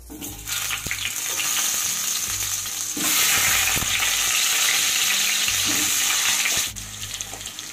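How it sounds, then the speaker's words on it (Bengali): Halved potatoes frying in hot mustard oil for a chicken curry, a loud steady sizzle that surges when stirred, with clattering utensil knocks and a burst of intense hissing near the middle. "এবার আমি সবার প্রথমে আলু ভেজে নেব।"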